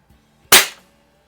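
A single sharp crack from a Barra 1866 .177 pump pellet rifle, charged with 10 pumps and loaded with a 7-grain pellet; loud and close, with a quick fading tail and quiet before and after.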